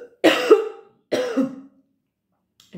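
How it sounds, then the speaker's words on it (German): Two hard, close coughs burst out a moment apart, each a short harsh rasp that fades quickly, followed by the start of a third sound at the very end. "Kurzer Hustenanfall."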